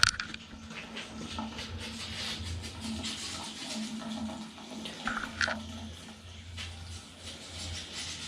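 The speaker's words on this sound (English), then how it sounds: "That's letting air in as the water comes out." Water draining from a boiler heating system during a pump change, a faint, continuous rushing and trickling with a low steady hum, occasional gurgles and small clicks.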